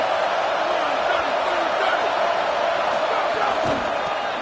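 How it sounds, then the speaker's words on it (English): A dense, steady wash of stadium crowd noise from the NCAA 25 college football video game, loud and continuous, with a commentator speaking over it. "This crowd ready to make its presence known."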